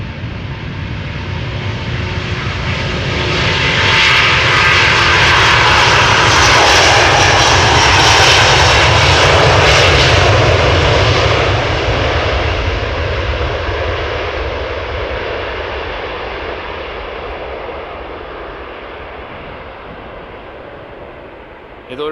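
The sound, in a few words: Airbus A330 Neo airliner departing outbound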